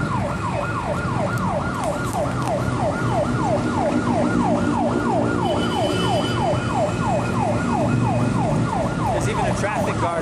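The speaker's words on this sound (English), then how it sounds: "ambulances don't take any priority." A wailing ambulance siren sweeps up and down steadily and loudly over the rumble of nearby traffic and engines on a street in Manila, Philippines.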